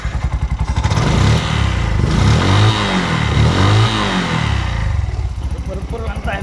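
A Bajaj BS6 CNG auto rickshaw with a starting fault and its air filter removed runs close and loud, its engine swelling up and dropping back in two rising revs before settling toward a steady idle, with voices faintly in the background.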